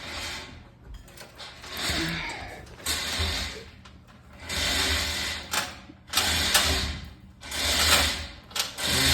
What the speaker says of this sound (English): Now we're just loosening the jack.